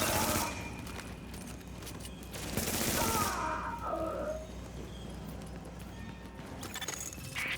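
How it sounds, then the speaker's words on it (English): Rapid video-game gunfire bursts in a contaminated lower Manhattan area, loud and dense, with a long volley near the middle, mixed with game ambience and a short spoken line. "So, that shooting, that was you."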